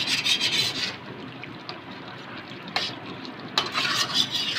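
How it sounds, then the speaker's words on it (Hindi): Chicken koyla karahi masala is stir-fried on full flame in a karahi, giving rough rasping scrapes of a spatula and loud bursts of sizzle that rise and fall in rhythmic strokes. "इसको अच्छे से भूनेंगे अभी हम तकरीबन 6 से 7 मिनट"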